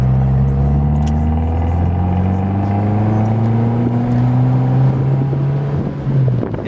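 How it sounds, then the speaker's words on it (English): A 2013 Fiat Abarth 500 Cabriolet with about 8,400 miles revs its small sports-car engine, a close, steady drone that rises smoothly in pitch as it pulls through a gear, then drops away near the end. "it's just a good sound, sports car sound."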